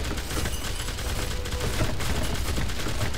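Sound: cannon shot in Minecraft video game

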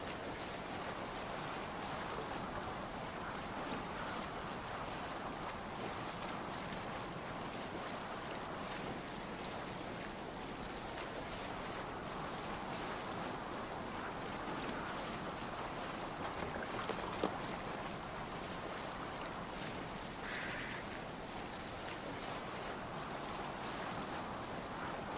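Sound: sailing a boat on waves in video game Assassin's Creed Valhalla

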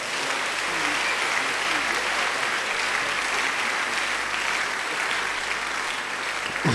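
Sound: congregation clapping, a clap offering

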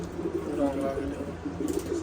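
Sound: pigeon cooing

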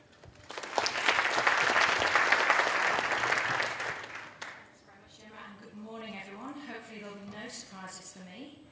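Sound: audience applause welcoming speaker Fiona

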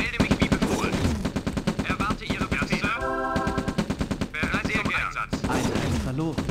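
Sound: machine gun fire in video game Command & Conquer Red Alert

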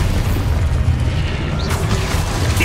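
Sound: Expulso blasting spell explosion in Hogwarts Legacy video game

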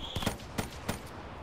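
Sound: gunfire from a gun in a video game

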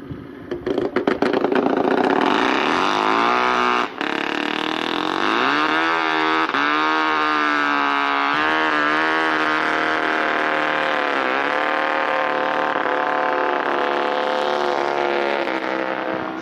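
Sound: Kuhnke Sport 1 race machine engine starting and running

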